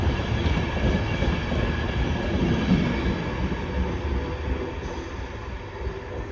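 Passenger train with six carriages at Ruabon station, a steady loud rumble of wheels and carriages rolling past close by with faint rail squeal, no talking.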